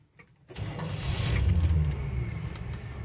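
A 1972 Continental Mark IV with a new Edelbrock carburetor and Pertronix electronic ignition cranks briefly and catches without the accelerator pedal, settling into a loud, steady, smooth idle rumble up close after a short silence.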